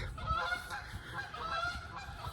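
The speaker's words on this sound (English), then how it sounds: "geese are up there calling" Geese honking overhead during an early-morning hike, a steady run of repeated nasal calls carrying over a low rumble of background noise with no talking.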